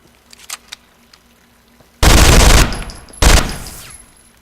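Gunfire in the Interstellar Marines video game, two loud close bursts of rapid shots, each about a second long, after a few faint clicks and taps.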